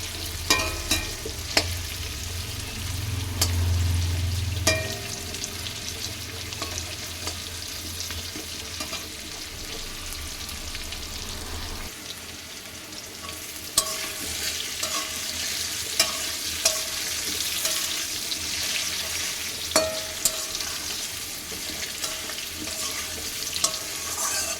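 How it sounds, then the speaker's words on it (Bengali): Potatoes fry in a pan for a chicken and papaya curry, giving a continuous crackling sizzle with repeated scraping and stirring strokes, including a heavier rumbling stretch in the first half. "পুরো আলুটা পুরোটা ভেজে নেব।"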